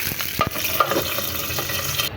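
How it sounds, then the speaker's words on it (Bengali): Green chilies fry in hot oil on a griddle, giving a steady crackling sizzle with a few sharper pops and stirring scrapes, close and continuous, with no talking. "প্রথমেই আমি কাঁচামরিচগুলো ভেজে নেবো।"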